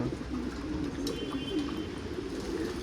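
Pigeons on a roof coo softly and repeatedly in low, rolling calls over a constant background hum, as rain begins.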